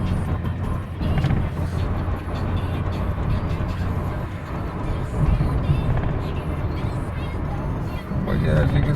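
Cabin of a 1986 Mercedes-Benz SL560 on the move, a steady low engine and road drone filling the interior with tire rumble and wind noise, continuous and fairly loud throughout.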